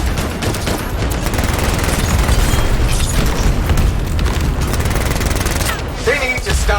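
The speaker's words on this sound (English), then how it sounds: "They need to stop shooting me out of the air." Sustained heavy gunfire and booming blasts fill a combat scene in the video game Anthem, a loud, dense fusillade throughout with a voice speaking over part of it.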